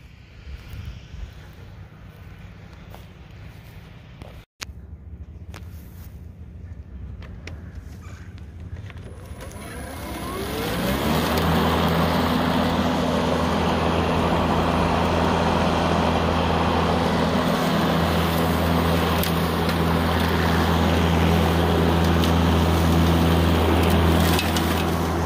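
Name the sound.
Makita 36V brushless push lawnmower cutting grass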